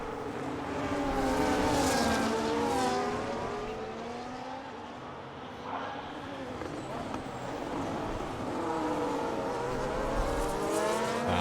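F1 race cars in the video game F1 25 scream down the main straight at COTA, with high, rising and falling engine whines from several cars overlapping under steady commentary.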